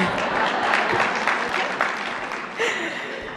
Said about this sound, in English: Please welcome a hearty round of applause for our keynote speaker, the Honorable Merryl Tisch.